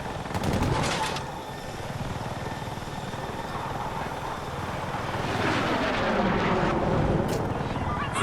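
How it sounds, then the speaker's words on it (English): In the video game Battlefield 6, a jet roars overhead in a continuous loud wash of engine noise that swells and fades, with rotor-like battle sounds and some gunfire-like bursts around it. "There's another jet flying over"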